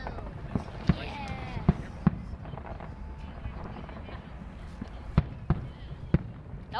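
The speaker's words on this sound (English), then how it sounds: "That was like 5 fireworks did at a time." Several fireworks at a public Australia Day display in Perth, 2024, burst in a scattered series of sharp bangs over a continuous crowd murmur, with people chatting nearby throughout.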